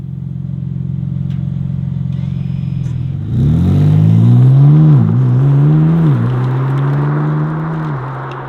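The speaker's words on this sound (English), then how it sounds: "let's test out this car's claimed acceleration figures" BMW M3 CS (G80) at a steady idle hum, then a loud launch: the engine roars up through rising revs with quick gear changes, pulling hard and close.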